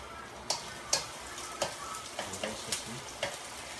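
Beef stir-frying in a pan over high heat for a Chinese beef stir fry: a steady close sizzle broken by sharp clattering stirring strikes roughly every half second.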